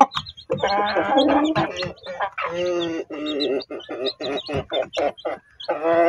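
Chickens cluck and call repeatedly at close range, a busy run of short clucks and longer squawks with brief gaps.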